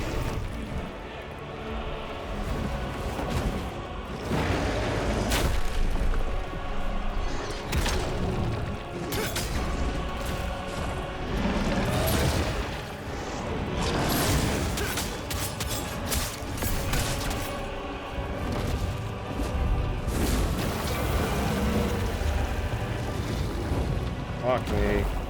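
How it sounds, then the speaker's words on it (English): Video game gunfire with dense, heavy booming shots and blasts in a continuous loud barrage across the whole stretch, with a person talking over it. "Gunfire, Dan."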